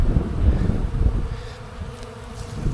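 Honey bees from an eight-frame colony hum in a dense, steady drone close by during a hive inspection, with no voices.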